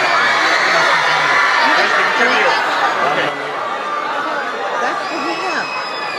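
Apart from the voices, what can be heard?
crowd of fans cheering for Johnny Depp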